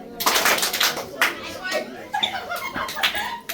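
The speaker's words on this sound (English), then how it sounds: "can everyone, if you can hear me, clap" Children in an elementary school classroom clap in scattered bursts on a career day, with giggles and chatter mixed in throughout.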